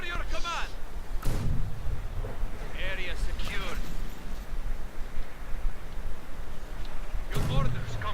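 A 120mm mortar in Company of Heroes 2 fires in sharp booming reports, a few separate blasts spaced across the stretch, under steady commentary.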